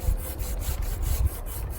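Hand saw cutting at an angle through an apple tree branch during pruning, with rapid rhythmic rasping strokes, close and steady, in a short burst outdoors.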